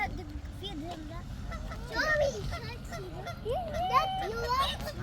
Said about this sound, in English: chichi duck come on